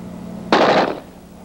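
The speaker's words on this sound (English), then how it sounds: "This will be fired automatically only." A Czech automatic rifle fires a single short, loud burst of roughly half a second, sharp and close, then cuts off, with no talking around it.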